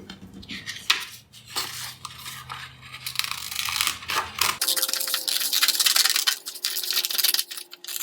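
Scissors cutting through paper up close, a run of crisp crunching snips and rustling scrapes, with a brief drop in background hum midway.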